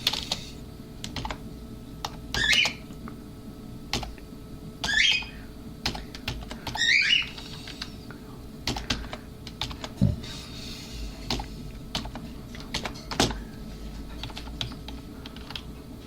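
Someone types on a computer keyboard while coding, with sparse clicks and a few quick bursts of keystrokes, close and clear against a low background hum and no talk.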